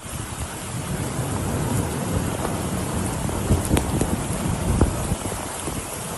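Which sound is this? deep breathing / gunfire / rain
rain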